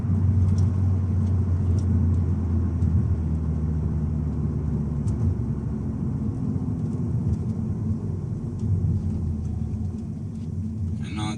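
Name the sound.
turbocharged car engine while driving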